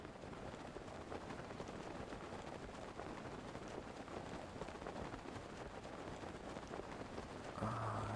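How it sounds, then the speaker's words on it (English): Rain falling in the video game The Legend of Zelda: Breath of the Wild, a steady soft hiss of drops that carries on evenly throughout, fairly quiet, with no speech. "it's a bit more rainy, to say the least"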